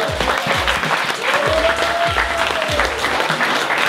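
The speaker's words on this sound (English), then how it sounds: "Massive round of applause for all the hard work." Loud, continuous applause fills the room from the crowd at a film festival screening and awards event, with dull thumps recurring underneath and a brief whistle-like tone partway through.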